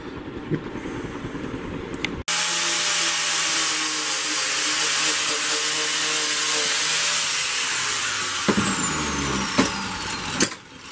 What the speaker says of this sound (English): Now I gotta grind this into shape.